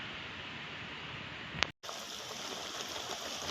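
Chicken feet adobo simmering in a pot with vinegar, pepper and bay leaf, a steady soft bubbling hiss close by, briefly cut by a click and a moment of silence.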